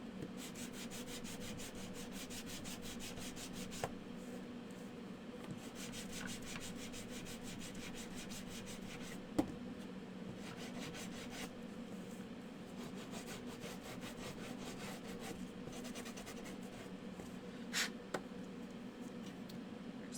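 Steady, continuous sanding across a wooden stand, a soft rasping rub that holds level for about twenty seconds with a few faint taps and ticks breaking through, no talking.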